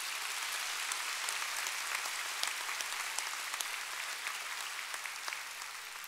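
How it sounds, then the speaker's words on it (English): Audience applause at a spring university commencement ceremony, a steady wash of many hands clapping at even loudness throughout, with no voices over it. "Please join me in a round of applause for these individuals."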